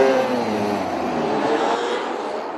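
Dirt track race cars running a one-lap qualifying session inside an indoor arena at the PPL Center in Allentown, Pennsylvania, give a steady, loud engine roar with a slight drop toward the end, with no talk over it.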